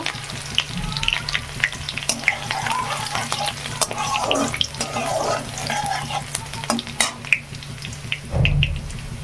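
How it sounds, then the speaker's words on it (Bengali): Crushed garlic fries in hot mustard oil, giving a steady crackling sizzle with scattered sharp pops and occasional stirring clinks, close and moderately quiet. "দেখুন তেলটা খুব ভালো গরম হচ্ছে রসুনটাকে হালকা ভেজে নেব"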